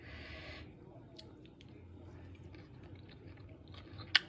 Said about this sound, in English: Let me try roti and a little bit of sag, the mustard greens.